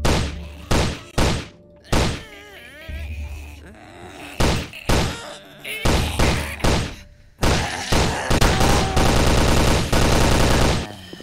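Heavy gunfire from the zombie shooter Invention 3, a Left 4 Dead clone: loud, close bursts of automatic fire with short gaps, building into a long sustained volley, with a player's voice now and then.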